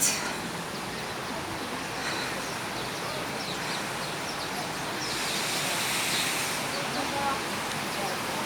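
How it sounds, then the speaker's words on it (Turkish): Waterfalls at the entrance to the Hacı Bayram Veli tomb in Ankara give a steady broadband rush of falling water, with faint birds and city sounds blended into the continuous wash. "Şöyle şelaleler var."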